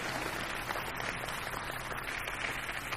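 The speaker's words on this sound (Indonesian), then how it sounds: "tepuk tangan untuk Anda semua" An audience in Yogyakarta applauds at an afternoon gathering, a thick continuous wash of clapping that stays loud and steady from start to finish.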